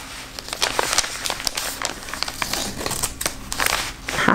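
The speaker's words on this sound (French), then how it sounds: "je vais ouvrir l'enveloppe" Scissors cutting open a paper envelope, a run of crisp snipping and crinkling paper sounds close up, repeated irregularly for several seconds.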